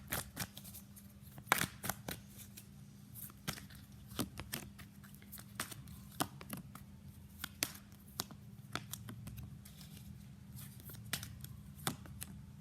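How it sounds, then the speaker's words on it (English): Tarot cards being shuffled and drawn from the deck, a rapid series of sharp papery flicks and snaps at close range over a low steady hum, with no talking. "let's pull some cards from universe"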